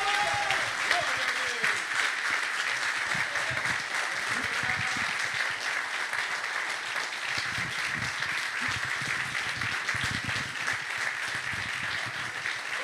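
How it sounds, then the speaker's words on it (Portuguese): A church congregation in Brazil breaks into loud, sustained applause, a dense wash of clapping that fills the room, with a voice speaking over it at times. "Uma grande salva de palmas para Jesus."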